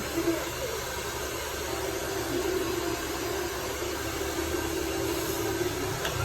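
A blower running steadily, with an even broadband whoosh that holds constant, moderately loud and close, alone without talk.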